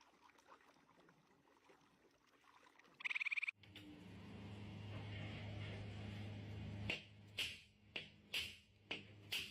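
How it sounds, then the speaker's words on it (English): Frogs croaking at night, a run of loud, sharp, evenly spaced croaks close by, following a quieter stretch of low rumble and a brief burst of noise. "Swear to God, if I hear one more frog."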